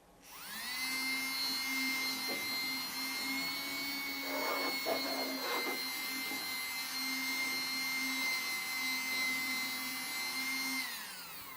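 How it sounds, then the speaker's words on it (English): A vacuum cleaner runs steadily and loudly for about ten seconds, sucking dust out of a computer monitor's upper and lower vents. A high whine holds throughout, with brief rattling bursts partway through as debris is drawn in. "Use your vacuum cleaner to clean out any accumulations of dust or dirt from the monitor's upper and lower"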